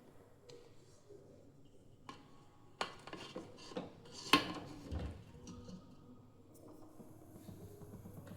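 A metal plate and lid clink and clatter against a pot of hot steaming water, prepared for cooking instant rava cheese dhokla. A few sharp knocks come close together, quiet and near.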